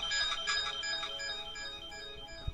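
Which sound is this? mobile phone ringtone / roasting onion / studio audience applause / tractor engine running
mobile phone ringtone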